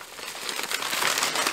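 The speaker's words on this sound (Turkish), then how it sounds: "Kargo poşetlerini açtım bu sefer." Plastic shipping bags opened up close, a loud continuous crinkling and rustling that swells slightly and stays busy for the whole moment, no voices.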